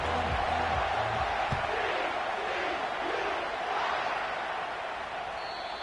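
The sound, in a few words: stadium crowd cheering in EA Sports College Football video game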